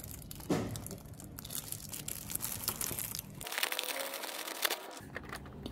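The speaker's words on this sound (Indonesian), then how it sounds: "Oke, kita unboxing keyboardnya." Plastic packaging crinkles and rustles steadily at close range while a red-switch mechanical keyboard is unboxed, with brief crunching and tearing textures and no talking.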